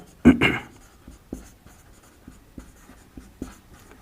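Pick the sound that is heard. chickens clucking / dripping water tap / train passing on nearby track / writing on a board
writing on a board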